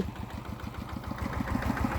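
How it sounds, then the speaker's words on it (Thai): A tractor engine drives a water pump drawing from a canal, a steady mid-pitched idling chug with regular pulsing beats, close and continuous throughout. "คนที่ไม่มีโซลาเซลล์เขาก็จะใช้รถไถ นะสูบน้ำแบบนี้นะพี่น้องเอ้ย"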